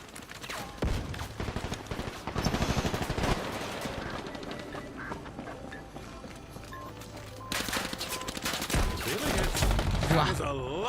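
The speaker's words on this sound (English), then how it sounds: "That was a lot of bullets." Dense bursts of automatic gunfire and rapid shots crackle through a battle in the online shooter Combat Champions, loud and continuous with a few pauses and game sound effects.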